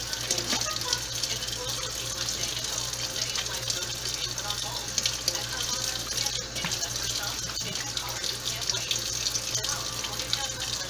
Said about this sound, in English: Nice thick lather. Really thick lather.